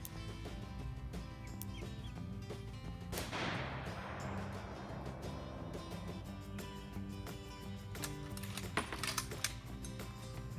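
Gunfire from a backyard shooting range near a chicken coop: one loud, close crack with a long rolling decay, then scattered sharper snaps later over steady outdoor background noise.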